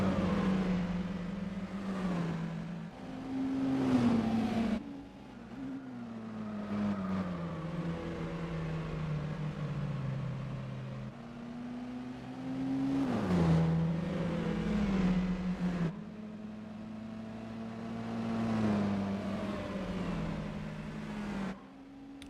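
Mazda Miata compact car in Gran Turismo 4 racing, its engine droning and rising in pitch through the gears, with brief dips between shifts and steady revving throughout, loud and continuous.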